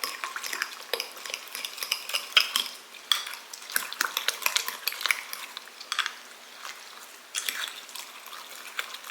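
Ingredients stirred together with butter in a pan, close and busy: a rapid, uneven run of utensil scrapes and clinks against the metal over a faint background sizzle, with no talking.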